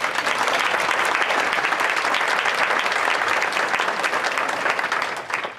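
An audience at the Athena Awards business council ceremony applauds an award nominee, giving dense, steady clapping from a full room that holds at even loudness and tapers slightly at the end.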